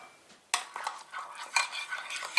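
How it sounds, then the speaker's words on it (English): A utensil stirs deviled egg filling of mashed yolk and dill pickle juice in a bowl, a run of close, clinking and scraping strokes with no voices. "Now I'm going to stir it up."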